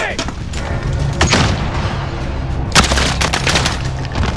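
Heavy automatic gunfire from a machine gun in Call of Duty Modern Warfare (2019), bursts of loud shots layered with booms and impacts, a sharp blast near the middle, set against shouted combat voices.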